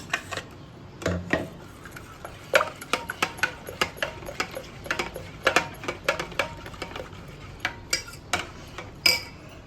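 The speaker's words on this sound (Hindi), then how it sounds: "अब यहाँ पे मैं चटनी डालूँगी।" A spoon clinks and taps against a bowl in a steady run of sharp little knocks while chutney is stirred into yogurt for potato raita, close by and fairly quiet, with no talking.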